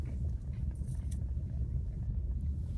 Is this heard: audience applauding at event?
no